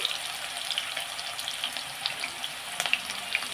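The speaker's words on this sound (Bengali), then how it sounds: "আলুটা একটুখানি হালকা ভাজা হয়ে এসেছে" Steady, close sizzling of potatoes frying in a pan, with light scattered pops and crackles and no voices.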